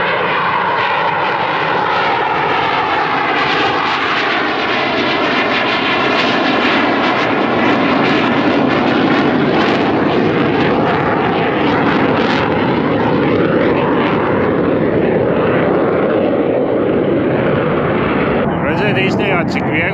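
Light airplane engine droning loud and close for a long stretch, steady and roaring with a buzzing propeller tone, shifting slightly near the end.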